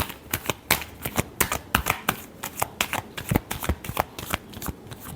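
Tarot cards shuffled by hand up close, a quick run of crisp riffling and slapping bursts in an uneven rhythm, loud and alone with no talking.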